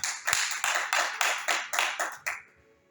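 A church congregation applauds together in a burst of rhythmic clapping, roughly eight strong beats in steady time, close and loud, before it stops abruptly.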